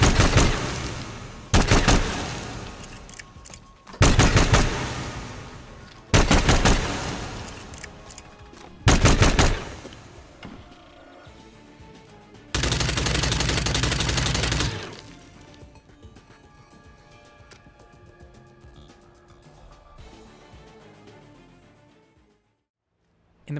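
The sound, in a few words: broken Concept 5 gun firing sound in the video game Hitman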